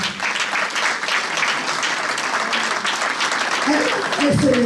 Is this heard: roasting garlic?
no